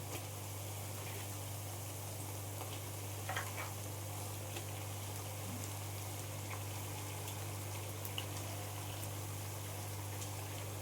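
Mutton pieces hit hot fried onions in a pan, giving a steady, dense sizzle that runs unbroken at moderate loudness with faint crackles, with no voices.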